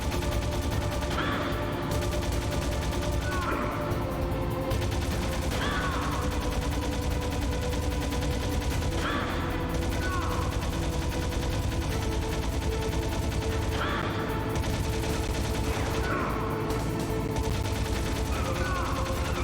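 Video game gunfire in Metal Gear Solid rattles in repeated bursts over a constant dense background of music and effects, with a voice occasionally mixed in.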